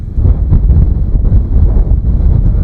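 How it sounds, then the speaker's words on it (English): Strong wind buffets the microphone in heavy, rumbling gusts in Ireland, loud and continuous, with no talking. "These gusts are strong."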